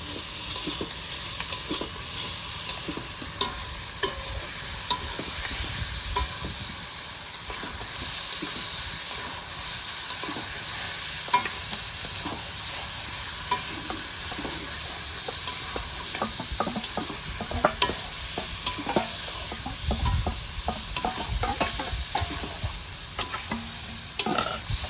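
Whole liver and whole garlic sizzle and hiss in hot oil in a pan at an outdoor picnic, with steady frying noise and repeated scraping and clinking as a utensil stirs them.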